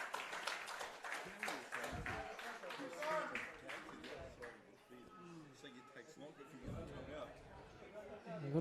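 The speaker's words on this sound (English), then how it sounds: "And he will take the applause." Crowd applause at a National Premier League football match in New South Wales for a substituted player, steady scattered clapping from the stands running under a commentator's voice.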